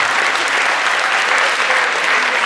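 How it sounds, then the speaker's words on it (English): A room full of people claps steadily and loudly for Garrett after his singing at the UNL Power Up Weekend event, a dense, even wash of applause lasting the whole stretch with no talk over it. "Give Garrett a big round of applause"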